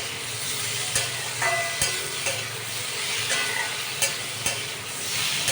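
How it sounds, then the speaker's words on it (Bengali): Pre-boiled potato and papaya pieces fry in a pan with a steady close sizzle, broken by regular clacks of a spoon stirring and scraping against the metal. "দেখো ভালো মতো ভাজা হয়ে এসছে।"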